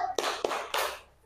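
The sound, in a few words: group clapping a salute clap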